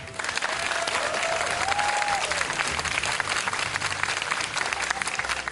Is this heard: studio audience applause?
yes